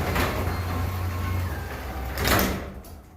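A Genie 2028 garage door opener drives an old fiberglass door hung on worn extension springs, giving a steady mechanical hum and rumble that ends in a louder clunk near the end of travel, with no talking.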